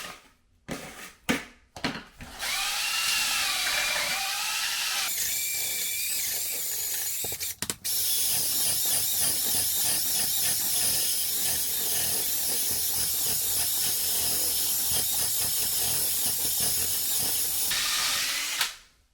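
A power drill whines steadily while mixing Laticrete PermaColor Select grout, after a few short starts, then running continuously at high speed with a brief pause midway.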